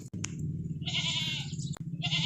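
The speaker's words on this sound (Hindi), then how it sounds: "मोटा चौड़ा ज़बरदस्त बकरा है" A goat bleats loudly and close, a few wavering cries in quick succession with brief breaks between them.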